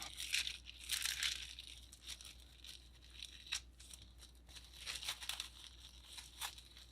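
Plastic wrap crinkles in soft, irregular bursts while it is pressed around a faux Easter macaron cut with a champagne glass, quiet and close, with louder crackly stretches early on and again near the end.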